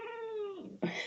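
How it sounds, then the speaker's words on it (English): A domestic cat lets out a drawn-out, falling meow followed by a short second call, close and clear indoors. "sorry, that's my cat"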